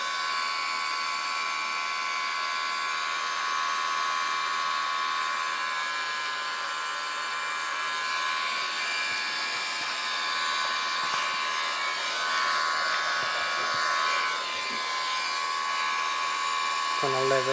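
Airbus A330 airliner in Wizz Air livery in Microsoft Flight Simulator, its engines giving a steady, loud, high-pitched whine and broad roar that holds level throughout during a turn.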